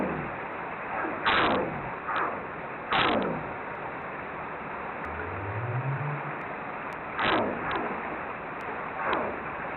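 Underwater recording of right whale gunshot calls: several sharp broadband cracks spaced a few seconds apart against steady ocean noise, with a faint rising up call in the middle.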